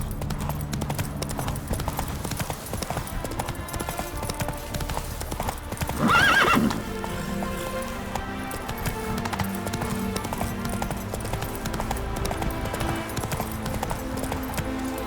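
Roach, Geralt's horse in The Witcher 3, gallops with a steady, close drumming of hooves throughout, broken near the middle by a loud neigh over a bed of game music.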